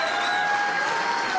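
Applause from a studio audience on a 1994 television show, a steady wash of clapping at moderate volume that holds evenly throughout, with faint tonal hum beneath.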